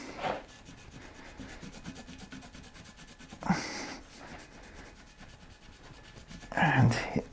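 A cloth rubbing metal polish onto the metal of a Mamod SE1 model steam engine during restoration, giving a few soft, close, scratchy strokes in short bursts with quiet gaps between them.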